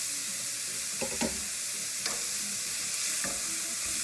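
Chopped onions fry with bacon in its own fat in a pan, a loud constant sizzle with a few stirring scrapes and taps and no one speaking.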